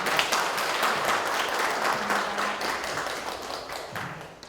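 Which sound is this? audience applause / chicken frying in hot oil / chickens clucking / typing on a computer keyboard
audience applause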